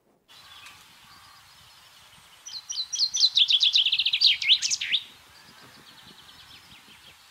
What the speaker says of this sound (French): Allez, un chant de pinson.